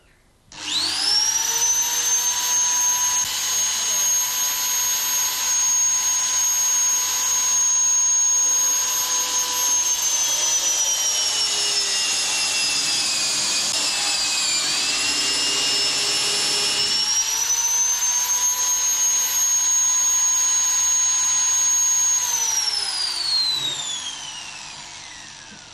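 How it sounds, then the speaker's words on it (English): A power drill bores the cutter hole in a routing jig, a steady loud whine running continuously for about 24 seconds, dipping in pitch midway as the bit loads up, then recovering before stopping. "The cutter hole can now be drilled."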